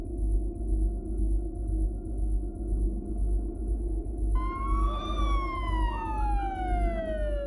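An ambulance siren in Afghanistan begins wailing about halfway through, its rising and falling tone sitting over a constant heavy rumble of engine or traffic noise.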